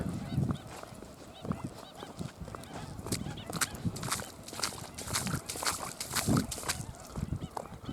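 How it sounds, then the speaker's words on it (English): A flock of geese honking outdoors in an open area rich with bird life, with repeated scattered honks at varying distances and footsteps or movement underneath, no speech. "What a bird life around here."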